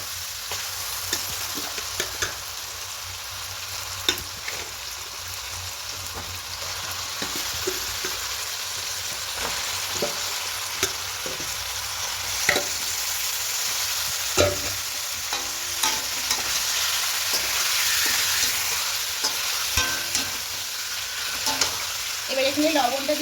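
Chicken pieces fry in a pan for biryani, a continuous close sizzle broken by repeated scraping knocks of a spatula as the meat is stirred, with no one speaking.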